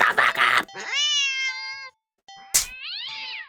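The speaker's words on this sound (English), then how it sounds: "the cat meows sharply at you and dashes off around the corner and into the hall." A video game cat gives two sharp, drawn-out meows, loud and close, after a brief burst of noise, with a short click between the calls.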